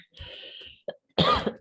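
A single person coughs a few times during a classroom lesson on digestion, the short harsh bursts close and fairly loud with brief silent gaps between them.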